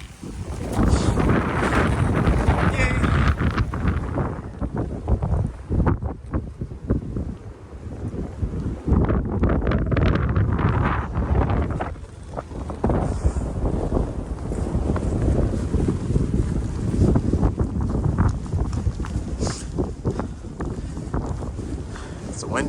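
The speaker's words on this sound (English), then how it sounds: "It's windy as hell" Strong gusty wind on a mountain trail buffets the microphone in a continuous loud roar, with people talking through and under it.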